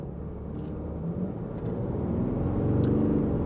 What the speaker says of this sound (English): You could still hear that Cummins. Let me kind of accelerate one more time.